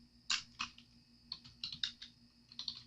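Close, quiet typing on a computer keyboard, irregular bursts of light key clicks over a faint steady hum, with no talking.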